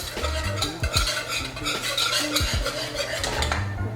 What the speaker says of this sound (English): you want to continue whisking to get all of the clumps out until it's like nice and smooth.